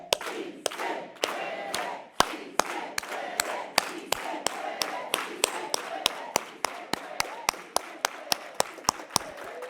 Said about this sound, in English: let's all go together with an organized hand clap